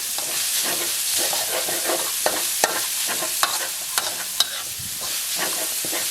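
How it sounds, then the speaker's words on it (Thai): Minced pork stir-fried in a pan with chilli and garlic for basil pork: a loud, continuous close-up sizzle punctuated by several sharp spatula scrapes and taps. "ใส่หมูสับลงไปครับ ผัดนะครับ ให้หมูสับสุกแล้วก็ หอมนะครับ"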